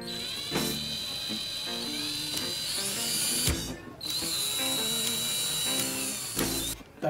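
A power drill whirs steadily at close range, its motor pitch shifting slightly, with a brief pause midway and a clunk before it resumes.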